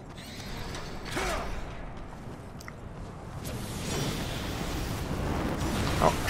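Gates opening by mechanism in Darksiders, with a low grinding, creaking rumble that builds gradually, with a few sharp clanks and scrapes along the way.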